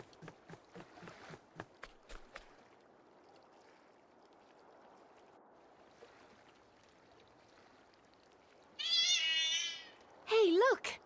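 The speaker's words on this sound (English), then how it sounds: "That's got to be the cat the shopkeeper was talking about." A cat meows twice in the Beastmaster video game, two short rising calls near the end after a quiet stretch, with soft clicks and footsteps at the start and no talking.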